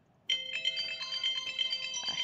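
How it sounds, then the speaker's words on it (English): A phone ringtone plays during a survival game session, a bright repeating electronic melody of tonal beeps that starts abruptly and continues steadily, close and clear with no talking. "I need the phone to stop."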